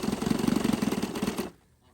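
A 1968 Evinrude 9.5 outboard motor, running rough, gives a loud, fast, rapidly pulsing mechanical putter close by for about a second and a half, then cuts off abruptly into near quiet.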